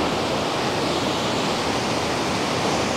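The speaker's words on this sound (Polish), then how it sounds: "musieliśmy przejść tu przez jeden wodospad już," A waterfall in Switzerland near Lucerne roars as a steady, loud broadband rush of falling water, continuous and close with no voices.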